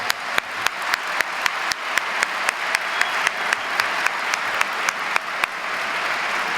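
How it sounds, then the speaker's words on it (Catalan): Applause at a Catalan national rally as a crowd claps for performing musicians, a dense steady patter of many hands with occasional sharper single claps standing out, holding fairly even throughout. "Un aplaudiment per ells i pel caloret"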